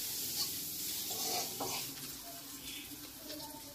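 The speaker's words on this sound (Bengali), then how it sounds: "পেঁয়াজ ভাজা হচ্ছে" Onions fry quietly in a pan at home, a soft steady sizzle with faint stirring sounds, heard from a little distance without talk.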